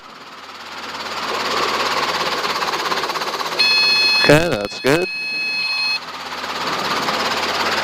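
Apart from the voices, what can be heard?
Robinson R22 helicopter engine startup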